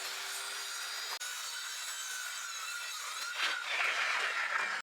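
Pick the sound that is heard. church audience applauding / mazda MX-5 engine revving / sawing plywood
sawing plywood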